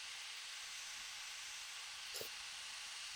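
A steam locomotive in the Derail Valley game, an 8F, gives off a steady, even hiss of steam, with a brief sharper puff of release near the end.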